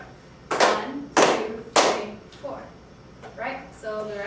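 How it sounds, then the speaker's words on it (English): Three sharp hand claps land in an even beat during a music lesson, followed by quieter voices counting along in the room. "Can we count and clap this rest?"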